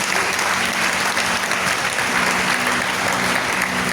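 A church congregation bursts into sustained applause during a worship service, a dense, even roar of many clapping hands that holds steady throughout.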